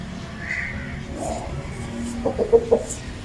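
An Aseel fighting rooster gives a few short, close clucking calls near the end, over a low background murmur.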